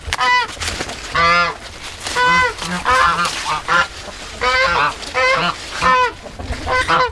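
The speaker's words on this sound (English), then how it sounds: "The geese are going to town." Geese honk loudly and repeatedly near a backyard garden and chicken area, with bursts of harsh calls coming in quick rhythmic clusters across the whole stretch.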